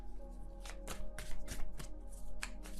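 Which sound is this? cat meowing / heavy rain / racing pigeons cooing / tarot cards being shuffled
tarot cards being shuffled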